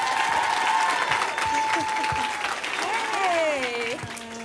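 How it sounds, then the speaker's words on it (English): An audience applauds and cheers to welcome a guest onto a talk-show stage, a busy clapping wash with whoops and raised voices over it, moderately loud and easing toward the end. "let's give a warm hand of applause for Miss Rashida Jones."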